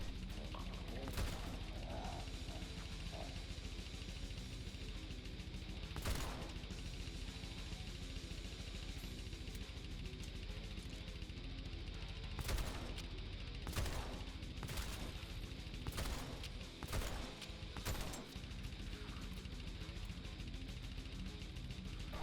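Shotgun blasts in the video game Dead Island 2, a series of sharp booming shots spaced irregularly over steady game background noise, with a voice talking between them.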